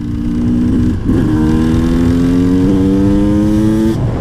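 A motorcycle cruises along a road at a relaxed pace. Its engine gives a loud, close, steady drone, with a brief dip and pitch shift near the one-second mark, then holds an even tone.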